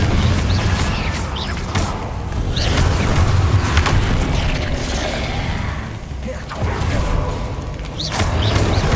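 Fiery Confringo spell blasts in the Hogwarts Legacy game, loud rumbling bursts and booming impacts with creaking mechanical clatter, sustained and dense across the scene with no talk.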